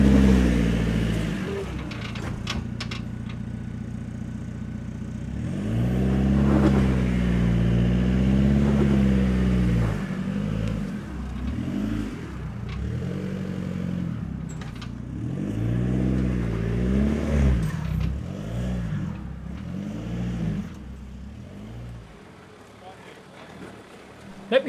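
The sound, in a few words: Jeep Wrangler JK engine revving while rock crawling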